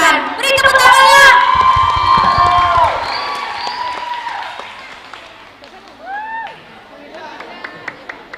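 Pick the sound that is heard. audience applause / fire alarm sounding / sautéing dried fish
audience applause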